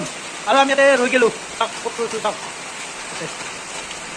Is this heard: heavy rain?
yes